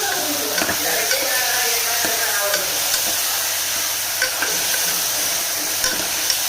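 Tomatoes sizzling and frying in a pan for an eggplant curry (kathirikai kadayal) in a home kitchen, a steady close hiss with occasional stirring clicks of a spoon.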